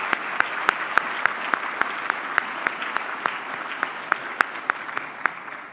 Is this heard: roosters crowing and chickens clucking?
no